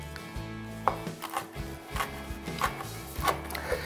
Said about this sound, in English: we're just gonna chop them up down to where we're getting into the leaves